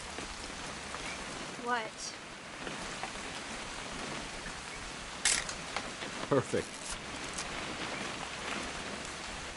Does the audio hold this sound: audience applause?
no